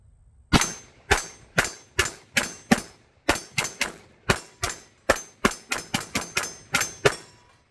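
Pistol shots from a Cosaint Arms COS21 double-stack 1911, fired one at a time in a steady string of about twenty sharp, loud reports over several seconds, with short irregular pauses between groups.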